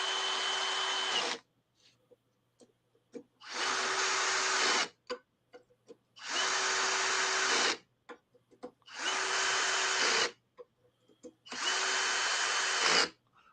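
A power drill runs in five long, loud bursts of about a second and a half each, drilling panels for a RatRig V-Core 3 3D printer, with faint clicks and handling noises in the gaps.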